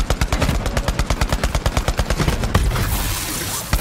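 Rapid automatic gunfire from the Borderlands 3 video game, a fast steady burst of loud close shots for about two and a half seconds, then a lull of rumbling noise and one final report.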